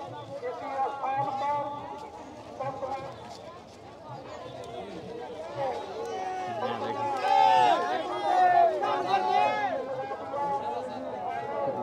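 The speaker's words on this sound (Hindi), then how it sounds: "भीड़ काफी ज्यादा जबरदस्त लगा है।" Dense crowd noise at the Ravidas Jayanti fair in Varanasi: a steady, loud babble of many voices and footsteps close around, with shouts and chatter rising and falling throughout.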